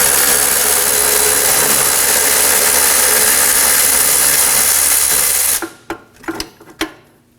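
A power tool loosens a bolt on the rear strut assembly of a 2014-2020 Acura MDX, giving a loud, steady, close buzzing whir for about five seconds that then stops, followed by a few short metallic clinks and knocks.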